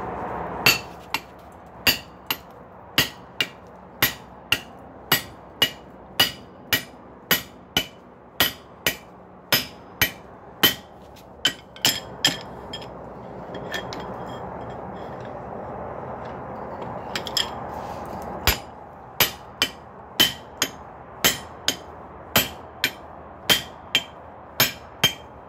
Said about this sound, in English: we're going to do this over the hardy hole. I'm going to use a little bit bigger hammer